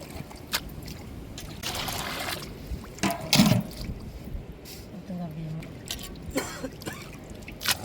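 Water poured over sala fish in a home kitchen, rinsing it before a mango fish curry: uneven splashes and trickles come and go, close by, while a person talks.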